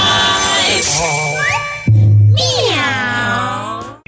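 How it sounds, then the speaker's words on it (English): A cat's meow rings out in a swinging radio station jingle for WKIX Channel 85, with sung voices, bright tonal music and a long, loud, upward-bending meow in the middle. "It's sunset with the cat's meow."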